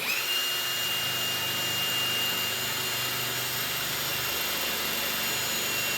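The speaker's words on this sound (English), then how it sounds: "I'm going to drill this right here." A power drill bores through a piece of metal angle against a car body panel, a steady, loud, high whine held for the whole stretch with no pauses and no talk.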